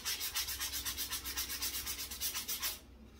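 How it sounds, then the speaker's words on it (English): A wooden catch-all tray is hand-sanded with sandpaper in quick, even back-and-forth rubbing strokes, close and steady for nearly three seconds before stopping. "Now it's just a matter of sitting back with the dish, some sandpaper"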